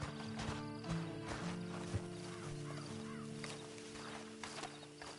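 Horse hooves clip-clop at a walking pace in Red Dead Online, a soft, uneven rhythm of steps heard fairly close over a low background ambience.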